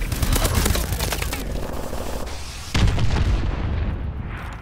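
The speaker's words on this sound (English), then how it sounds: "Enemy missile strikes incoming. Take cover." Missile strikes hit in a video game: heavy, loud explosions and rumbling booms run together as a dense barrage, with a fresh impact partway through and no pause.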